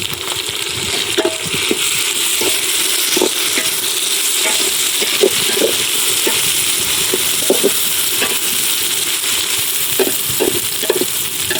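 Onions are being sautéed in a pan for chicken fry during an outdoor cook in the woods, with a constant loud sizzle and scattered metallic scrapes and clinks from stirring, and no talking.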